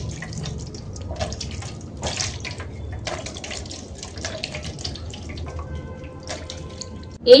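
Water running from a tap over hands being rinsed of homemade neem soap lather, a steady splashing stream with irregular splatters and drips, moderately close, no speech.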